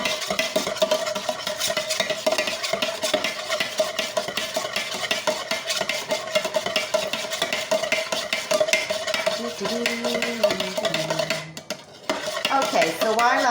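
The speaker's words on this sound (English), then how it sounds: "So guys, my wax is now completely melted. I'm just going to give it another wee stir." Melted candle wax being stirred in a pot, a steady scraping and clinking of utensil against metal that runs continuously and fairly close, with a brief lull near the end.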